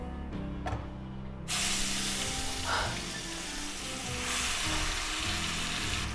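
Cashew paste hits hot oil in a pan while cooking matar paneer, and a loud sudden sizzle bursts out and keeps crackling and hissing steadily, with a soft clink before it starts.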